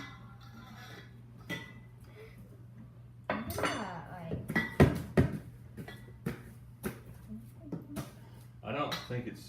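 A spoon working through fluffy slime in a bowl, with scattered clinks and knocks against the bowl that cluster in the middle, while voices talk over much of it.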